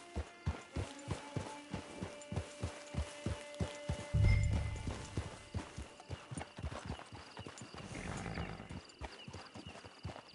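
Steady, rhythmic clip-clop of horse hooves walking at an even pace in the video game Red Dead Redemption 2 Online, with a brief thud and rustle partway through.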